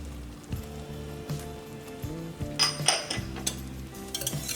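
A spoon scrapes and knocks against a pot as spice mixture is stirred into a mac and cheese sauce, with irregular close clinks and soft squelching over a low background hum.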